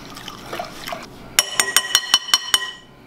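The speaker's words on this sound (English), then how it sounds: "And we stir all this up." A spoon stirs a bread dough mixture of eggs, sugar, oil, salt, canned milk and hot water, giving about seven crisp, evenly spaced clinks against the bowl after a short stretch of soft sloshing.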